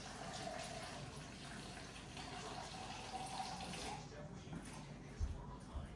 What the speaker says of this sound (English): I'm just using regular old water